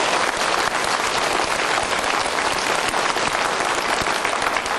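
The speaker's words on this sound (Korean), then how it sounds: "우리 하나님의 솜씨 한번 박수 좀 쳐드려" An audience at a church lecture claps together, a thick, steady wash of applause that runs unbroken for several seconds, close and loud, with no talking over it.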